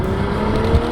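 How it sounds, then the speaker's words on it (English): A Ferrari engine roars loud and close during an almost instant paddle upshift, a steady dense drone with a brief dip and thump near the end. "when I pull this right lever, it's almost instant"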